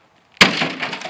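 A microwave's glass door shatters and breaks off as the appliance is smashed, one sharp crash followed by a second of tinkling, crackling debris, loud and close.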